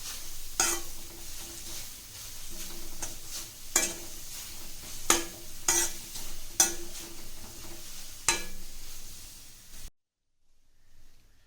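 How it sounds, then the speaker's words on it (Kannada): Grated carrot halwa with two spoons of ghee is stirred in a pan, a steady sizzle broken by repeated scraping spoon strokes, then it cuts to near silence at the end. "ಹೀಗೆ ತಿರುಗಿಸ್ತಾನೆ ಇರಿ"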